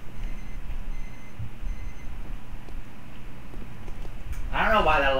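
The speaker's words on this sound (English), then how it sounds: "I don't know why that alarm goes off when it's not set to go off." A household alarm starts beeping near the end, a loud run of repeated electronic beeps that rise over a steady background hum after several seconds of low room noise.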